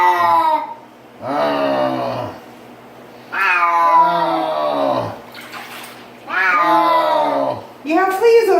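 A cat yowls loudly while being bathed, giving four long, drawn-out, wavering cries separated by short pauses, with faint water noise between them.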